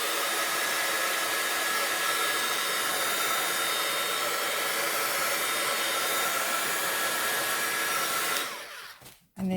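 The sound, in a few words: blow drying distress ink on a card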